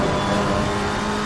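Racing video game car engine with the handling oversteering, a steady loud continuous roar with tire noise, sustained alone without talk.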